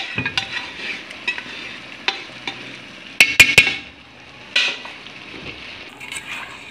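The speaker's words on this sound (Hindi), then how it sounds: "ये जी मैंने वो गला हुआ मसाला इसमें डाल दिया है।" Cooked-down onion and tomato masala tipped into chicken curry frying in a pot, with close stirring scrapes and a steady sizzle, a quick cluster of sharp clanks from a utensil against the pan midway.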